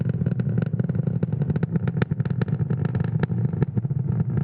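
A SpaceX Falcon 9 rocket climbing through supersonic flight gives a loud, continuous, crackling engine roar, heavy in low rumble with rapid clattering bursts, with no speech.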